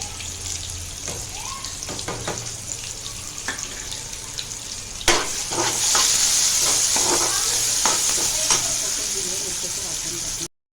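Tomatoes frying in a pan, a close steady sizzle with scattered stirring clatter, swelling louder midway as more goes into the pan and holding bright until it cuts off.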